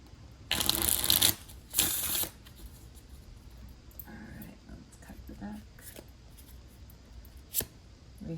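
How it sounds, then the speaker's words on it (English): Two bursts of oracle cards being shuffled, loud and close, followed by quieter handling noises and light taps. "let me go ahead and pull you an oracle card of constellations. Let me just shuffle this real quick."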